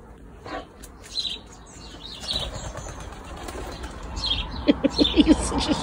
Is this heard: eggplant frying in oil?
no